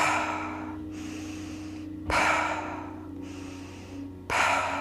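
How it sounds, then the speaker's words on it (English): Repetitive hyperventilation breathing during a breathwork session, sharp nasal inhales alternating with forceful 'pah' mouth exhales in a steady rhythm, close and alone. "So the breath will sound like this."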